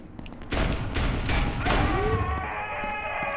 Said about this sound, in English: 2 shotgun shots seems to do it